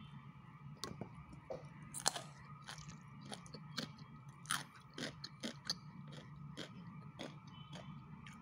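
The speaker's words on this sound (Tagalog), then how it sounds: "titikman ko po ang ating gulay" Someone bites and chews crunchy stir-fried vegetables served with pink salmon and garlic leaves, close and quiet, with a series of sharp crisp crunches spread irregularly over several seconds.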